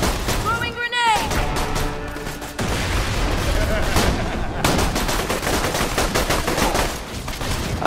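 Rapid bursts of gunfire and a grenade blast from the Borderlands 2 video game, loud and continuous, with sharp repeated shots following the explosion.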